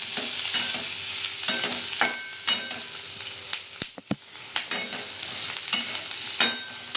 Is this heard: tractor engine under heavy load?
no